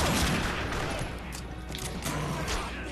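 Dense gunfire in the video game The Darkness 2, rapid overlapping shots and booms forming a loud continuous fusillade, with faint voices in the mix.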